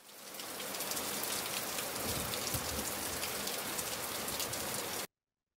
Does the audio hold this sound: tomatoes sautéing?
no